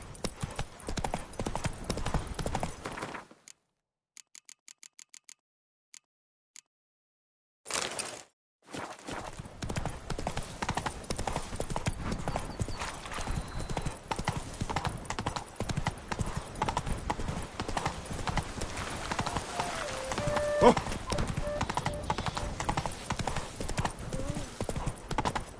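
Hooves of Roach, a horse in a video game, clip-clopping in a steady walking rhythm, close and clear, with a brief dropout early on and talk over parts of it.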